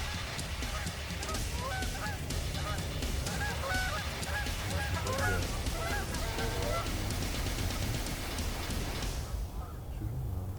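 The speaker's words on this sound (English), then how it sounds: "Dude, that was a ton of geese coming in." A large flock of Canada geese honks during a waterfowl hunt, a dense chorus of overlapping calls near and far that rises and then cuts off abruptly toward the end.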